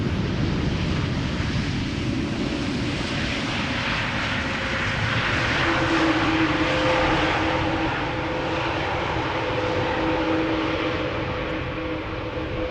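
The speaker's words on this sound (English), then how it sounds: "It's a new airplane, but it sounds a bit like an old diesel." A new passenger airplane at Amsterdam Schiphol Airport, its engines giving a loud, rough, diesel-like drone that stays steady throughout with no talk.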